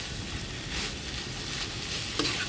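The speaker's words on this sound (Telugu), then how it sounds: "ఇప్పుడు దీన్ని కూడా బాగా కలిసేటట్టుగా కలుపుకొని అంత బాగా మిక్స్ చేసుకొని సమానంగా కలిసేటట్టుగా" Amaranth leaf curry sizzles steadily in a pan as it is stirred, a close, continuous frying hiss broken by a few soft scrapes.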